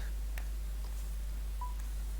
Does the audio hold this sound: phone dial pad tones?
yes